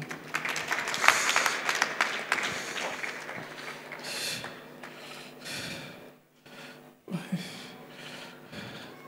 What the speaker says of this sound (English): Let's clap for King.